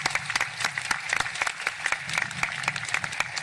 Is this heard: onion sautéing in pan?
no